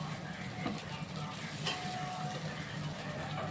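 Water hitting a hot pan of fried spice masala, a dense continuous hiss and bubbling sizzle throughout, close and steady, with a faint utensil tap and no speech.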